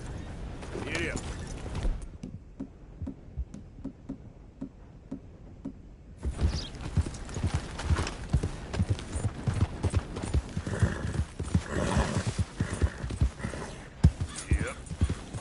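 Horse hooves clip-clop in a steady galloping rhythm in Red Dead Redemption 2, fading to near quiet mid-way before returning louder alongside game sounds and a voice.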